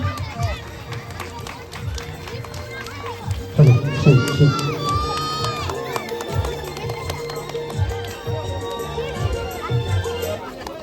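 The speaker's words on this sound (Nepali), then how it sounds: "जोरदार तालीद्वारा फेरि उहाँलाई स्वागत गर्न सक्छौँ" An audience at a village Independence Day celebration cheers and shouts, with children's voices in the crowd. The noise swells sharply, then settles into lively babble with voices talking throughout.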